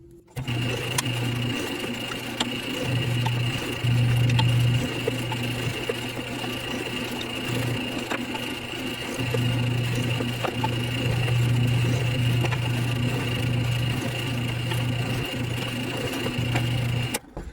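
A drill bores pilot holes into wooden shelf sides for an adjustable spice rack, a steady, close motor whine that runs almost without a break and swells slightly now and then, with no talking.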